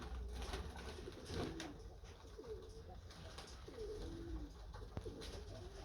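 A racing pigeon coos faintly in a steady series of about four rolling calls, with a low background hum.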